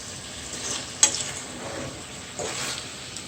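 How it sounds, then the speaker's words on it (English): Ackee and saltfish sizzle in a hot pan as they are stirred, with a steady fry hiss broken by a sharp scrape of the utensil near the start and another stirring swell later. "You take your time and just move the ackee around"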